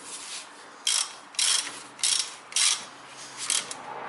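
A ratchet tightens a brake bolt on a Toyota Camry during front brake disc replacement, giving six quick clicking bursts in an uneven rhythm, close by and fairly quiet.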